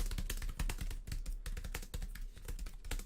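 Quick, steady typing on a Foldable Keyboard Pro, a dense run of close, crisp key clicks with a few louder strokes, heard alone without speech.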